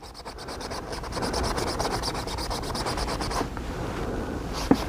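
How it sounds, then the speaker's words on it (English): Steel wool rubs surface rust off a Heritage Rough Rider revolver, a steady close scratchy rasp of rapid back-and-forth strokes, fairly quiet, with one sharp knock near the end. "steel wool to get some of the surface rust off"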